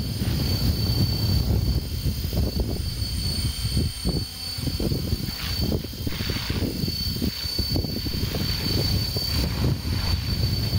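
A helicopter's steady mechanical drone dominated by transmission whine, with a constant high tone over a low rumble and wind buffeting, heard continuously and close with no talking.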